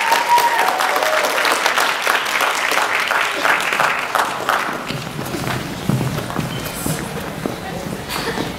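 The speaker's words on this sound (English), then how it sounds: "One more round of applause for Liberty Middle School." A school audience at a middle school literacy competition applauds loudly with dense, sustained clapping that gradually thins out over several seconds, with a voice briefly heard near the start.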